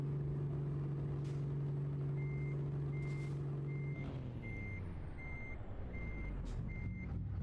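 A Volvo truck idles with a low engine drone while its reversing alarm beeps in a steady, evenly spaced pattern; partway through, the engine note drops and shifts as the truck keeps backing.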